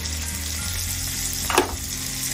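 Steady frying sizzle in a tilted frying pan while making tomato sauce for Piedmontese tagliarini, close and continuous, with one brief clink or scrape midway.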